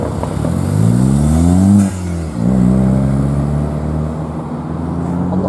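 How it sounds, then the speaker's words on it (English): Loud Ford car leaving the Ford Fair 2024 car show, its engine revving up hard, dipping briefly, then climbing into a second long rev that holds, close and dominant. "I'm not having my car that loud."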